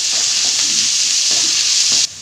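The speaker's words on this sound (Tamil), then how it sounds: "இது தக்காளி 1 இப்படி நல்லா சேர்த்து வதக்கும்." Chayote and tomato sautéing in a hot pan for Tamil chow chow chutney, a steady loud sizzle with light stirring scrapes throughout that cuts off abruptly near the end.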